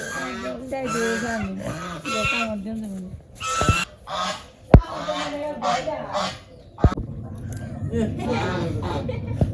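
Geese or ducks honk and cackle repeatedly in a farmyard on a winter morning, loud and close, with people talking over and between the calls.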